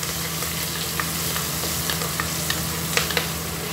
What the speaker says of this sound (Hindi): ये हमने हरी मिर्च डाली इसमें, थोड़ा सा हरी मिर्च को होने देंगे हम।